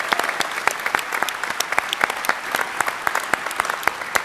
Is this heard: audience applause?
yes